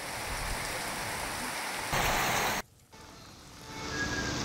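Heavy monsoon rain in Maharashtra roars in a loud, constant wash of falling water, briefly cut to near quiet partway through before the downpour noise swells back.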